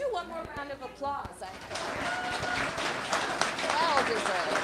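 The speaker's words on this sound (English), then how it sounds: "Let's do one more round of applause." Applause at a Busboys and Poets book event swells in after a speaker's voice, becoming a dense, sustained round of clapping with scattered cheers through the rest of the clip.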